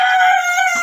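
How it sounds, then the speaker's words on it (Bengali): A Fayoumi laying hen on a farm in Taraganj, Rangpur, gives a single loud, close call that lasts under a second. No other sound is heard. "মুরগিগুলোকে ছেড়ে দিয়েছি"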